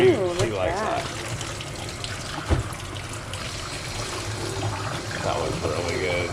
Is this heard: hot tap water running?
yes